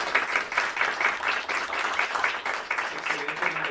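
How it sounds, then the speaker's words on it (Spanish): An audience at a panel interview applauds the speakers with steady, dense clapping that holds at a moderate level throughout. "si me acompañan a darle un aplauso a los expositores"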